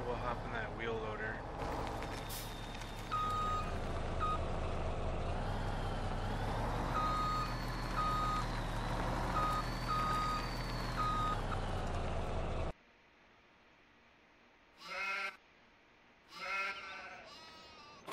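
Steady electronic reversing beeps from a wheel loader in Farming Simulator 17, repeating over engine drone and bleating farm animals, then stopping as a voice speaks briefly.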